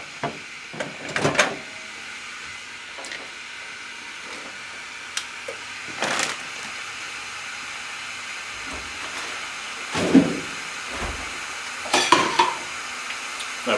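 Sausages fry in a pan for an English breakfast, giving a constant low sizzling hiss with occasional clinks and scrapes of a utensil against the pan.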